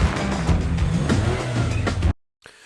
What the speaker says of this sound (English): Is that a Pontiac Fiero strapped to a rocket engine?